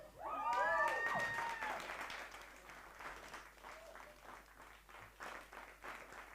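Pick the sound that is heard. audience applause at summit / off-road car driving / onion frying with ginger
audience applause at summit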